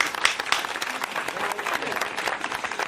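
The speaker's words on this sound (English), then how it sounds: "Let's give him a round of applause" Studio audience giving a round of applause for a man on a slimming-themed TV show, a dense, fairly distant patter of many hands sustained throughout.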